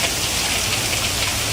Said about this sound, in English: it was hailing so badly she and others had to pull over